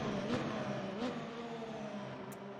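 A Formula-style race car engine in the RaceRoom racing game at the Interlagos circuit drones steadily and loudly, with slight pitch rises and dips across the whole stretch and no talking.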